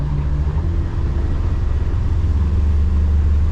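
Twin Yamaha F200 outboard motors run on a 2025 Defiance 26 boat, a loud steady low droning engine rumble with water and wind noise, close and continuous.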